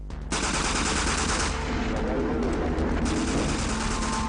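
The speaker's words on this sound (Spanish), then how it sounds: "You could hear lots of people being shot" Archival gunfire from the Waco siege, a dense, continuous barrage of rapid shots and bursts, loud and close, sustained throughout without pause.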